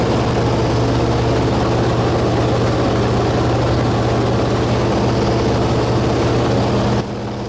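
A Fairchild 24W aircraft with its Warner radial engine drones loudly and steadily through the initial climb out, a constant propeller and engine roar that dips slightly near the end.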